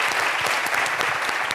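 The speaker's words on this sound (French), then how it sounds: "On va s'applaudir" A short burst of steady applause from a studio audience at a Christmas television show after a close contest, brisk and even throughout.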